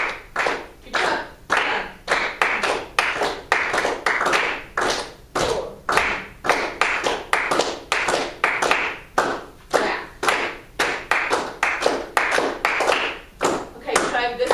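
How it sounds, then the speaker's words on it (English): A group keeps a steady quarter-note beat with their hands while a second clapped rhythm weaves between the beats, producing a busier, uneven pattern of crisp close claps; a voice speaks faintly underneath. "everybody clap a steady quarter note"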